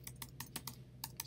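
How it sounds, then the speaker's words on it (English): Quick, light keystrokes on a computer keyboard tap out a short search in an uneven run of about eight clicks, faint and close, with no voices. "We just go to Google and we type in Illustrator"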